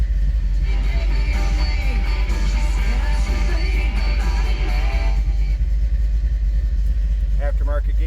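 A 1986 Chevrolet C10 Stepside street rod pickup engine idles with a steady, throaty low rumble while a person talks over it.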